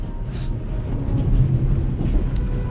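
Inside a freight car of a moving train in the game The Raven, a deep continuous rumble rolls on with faint rattling and clanks over it.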